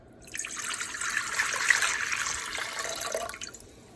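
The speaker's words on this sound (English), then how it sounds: "we have our pot here, deep pot, with 3 cups of cold water" Three cups of cold water pour steadily into a deep pot for a few seconds, a bright hissing splash that rises, holds, then tapers off.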